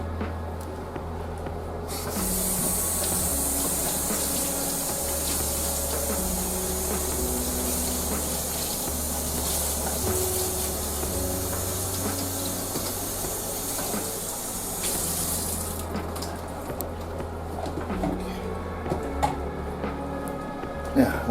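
Tap water runs steadily over a bunch of fresh cut parsley being rinsed, a broad continuous hiss with a louder spray burst in the middle, sustained throughout with no talking.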